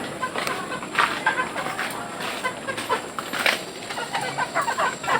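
Caged pet chickens cluck in short, repeated bursts close by, layered over a steady background hiss with no clear talk.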